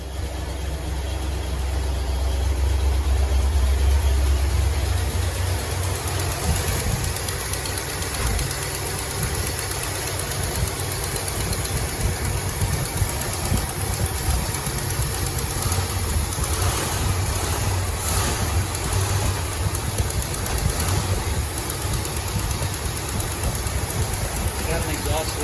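A 1970 Ford LTD engine with an exhaust leak idles steadily with a low rumble and a rough, ticking exhaust note, continuous throughout with faint background noise.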